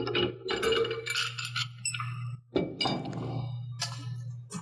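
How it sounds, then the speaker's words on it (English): A pipe wrench tightens an SMR module during assembly, giving a few metallic clinks and ratcheting clicks over a steady low hum, with a short break midway. "we can use our pipe wrench to tighten the SMR module"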